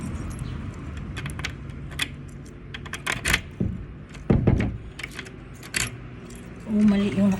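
A bunch of keys jangles and clicks against a door lock in repeated bursts while someone struggles to lock the door with the wrong key, with a voice speaking briefly near the end.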